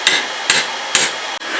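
A striking hammer hits hot metal while knife tongs are forged, giving three sharp, loud, evenly spaced ringing blows close by.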